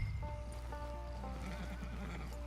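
A horse in Red Dead Redemption 2 gives a faint, brief whinny with clip-clop hoofbeats and a low background rumble underneath.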